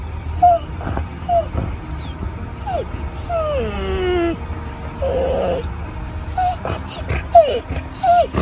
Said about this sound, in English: Dog whimpering whining sounds.